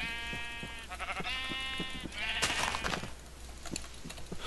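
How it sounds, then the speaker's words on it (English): Minecraft sheep bleat several times in quick succession, buzzy nasal calls, followed by clattering hit and movement sounds over a low steady background hum. "Here's the sheep I've been looking for."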